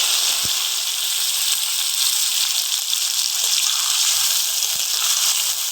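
Nol fruit pieces poured into hot oil with whole fennel seeds give a loud, steady sizzling hiss that fills the whole stretch, with no voices over it.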